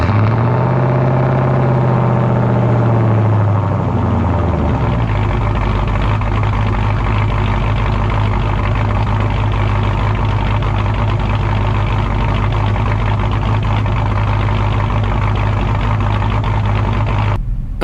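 A boosted car engine runs loud and close, its pitch dropping from a raised rev in the first few seconds into a steady low idle that continues to the end, with no talking.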